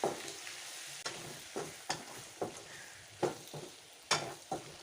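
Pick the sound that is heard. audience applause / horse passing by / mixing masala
mixing masala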